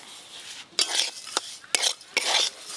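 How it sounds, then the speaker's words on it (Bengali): Semolina and sugar are stirred as they fry in ghee, producing brisk scraping spoon strokes over a faint sizzle, close and clear. "দিয়ে সুজিগুলো আরও একটু লাল লাল করে ভাজবো, তাতে চিনিগুলোও গলে যাবে"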